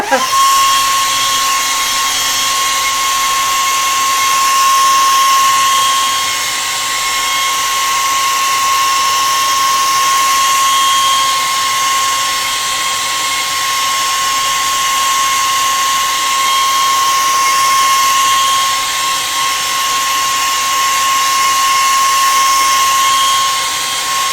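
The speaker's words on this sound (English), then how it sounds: "you're going to have to listen to the heat gun again" A heat gun runs for a long stretch at close range and fairly loud, giving a constant high-pitched motor whine with an airy blowing rush and no talking, while an altered book is being made.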